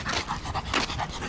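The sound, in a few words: Gultair dog panting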